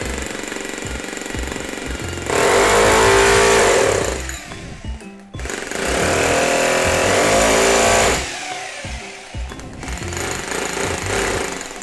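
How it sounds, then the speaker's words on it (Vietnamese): A powerful electric hammer drill hammering in loud, close bursts of rapid pounding, each a few seconds long, separated by brief drops as the trigger eases and the motor winds down. "dàn búa cực kỳ lực, nghe tiếng búa hay phê anh em."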